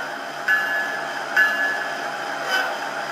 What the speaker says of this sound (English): Oh, here's the bell.